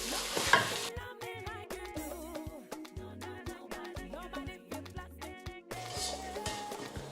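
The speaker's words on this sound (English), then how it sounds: "just try and keep stirring it before it gets done." Turkey leg mince stirred as it fries in a pan for Nigerian meat pie filling: a soft sizzle under repeated scraping and clinking strokes of a utensil, close and fairly quiet, with no talking.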